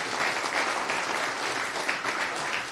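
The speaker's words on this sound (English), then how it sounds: "a warm round of applause to Vinden and Shin." Conference audience applauding speakers before a programming talk, a steady, full round of clapping from many people, fairly close and even throughout.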